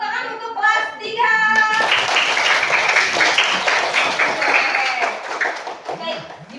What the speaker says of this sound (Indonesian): tepuk tangan untuk kelas 3